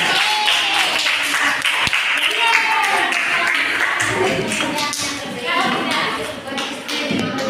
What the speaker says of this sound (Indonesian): Bagus sekali, kasih tepuk tangan.